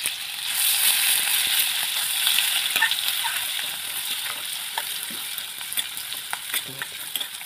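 Cumin seeds sizzle in a small ladle of hot oil, a bright, loud hiss that is strongest at first and then eases, with scattered crackles and pops toward the end.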